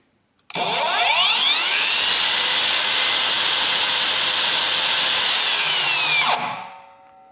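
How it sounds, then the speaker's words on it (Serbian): A Parkside Performance 40V cordless circular saw spins up with a soft start, holds a loud, steady high whine for about six seconds alone, then winds down as the switch is released. "palite alat. Puštanjem prekidača se alat gasi."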